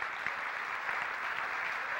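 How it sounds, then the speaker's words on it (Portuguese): A church congregation applauds during a family worship service, a steady wash of dense clapping held at even loudness throughout, with no speech over it. "Você pode aplaudir Jesus?"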